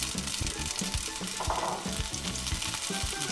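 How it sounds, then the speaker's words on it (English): Red peppers hit olive oil in a heavy skillet, giving a continuous crackling sizzle, fairly soft and close, with stirring clatter and no voices. "we're going to put some olive oil into the pan, and then we're going to put in the red peppers in"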